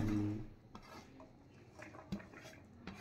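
Cabbage, chopped onion and garlic leaves being tossed together in a bowl, giving soft clinks and scrapes of a utensil against the dish, with a louder knock at the start, all quiet and close.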